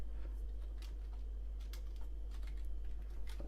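Rapid, uneven clicking of keys on a computer keyboard, close and steady over a constant low electrical hum, with no voices.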